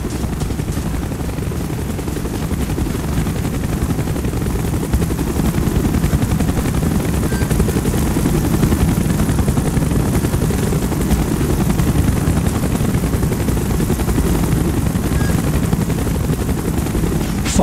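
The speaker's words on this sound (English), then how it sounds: "Chopper's inbound!" A helicopter approaches in the Call of Duty: Black Ops video game, its loud, steady rotor roar thick with low rumble throughout, with faint gunfire-like clatter mixed in.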